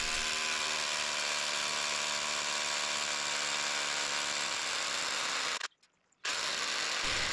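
Cordless Makita drill boring into rock in a ditch, a steady loud motor whine with strong harmonic bands running continuously, dropping out briefly near the end before resuming.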